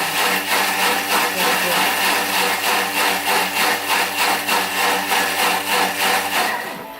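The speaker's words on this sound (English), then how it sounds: "So it's asking me to turn the blender on" A Thermomix blender whirs continuously with a steady motor hum and a pulsing churn, loud and close, then winds down at the end.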